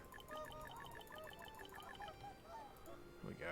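Geese in the video game Settlement Survival honk in a quick series of repeated, nasal calls, fairly quiet and steady over a faint background.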